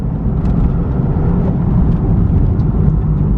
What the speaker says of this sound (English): I was hoping my car would sound like a V12, but it sounds like nothing